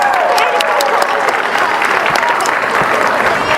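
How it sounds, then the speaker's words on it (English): Loud, dense applause from a school theatre audience for the production's tech crew, many hands clapping continuously at full strength throughout, with some crowd noise mixed in. "Give our tech crew a big round of applause."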